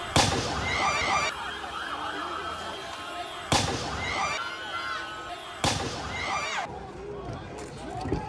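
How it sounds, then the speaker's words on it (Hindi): Stun grenades set off by police at a protest outside the Armenian parliament: three sharp, loud bangs about two seconds apart, each followed by a fading crackle, over a steady crowd roar with shouting. "पुलिस ने स्टन ग्रेनेड का इस्तेमाल किया है।"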